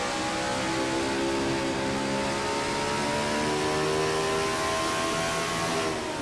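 A NASCAR-style race car engine in a racing video game revs hard through a turn, a loud continuous high-pitched drone with steadily climbing and sliding harmonics, no voices over it.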